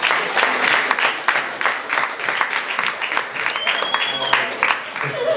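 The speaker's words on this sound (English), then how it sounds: "Let's give her a round of applause" An audience at a street card-magic show claps for a woman volunteer, a dense burst of applause that runs steady for several seconds and then thins out, with voices and crowd noise underneath.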